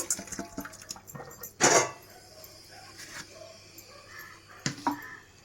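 Boiled potatoes for French fries being drained through a mesh sieve, giving soft pouring and splashing with a couple of louder splashes and clinks, faint and close in a quiet home kitchen.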